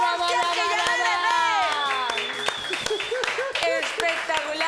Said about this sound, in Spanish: ¡Eso es un aplauso para mí!